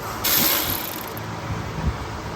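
A ratchet works loose the downpipe bolts under a Saab 900 in a garage, heard as a steady, close, noisy mechanical rasp with no talking.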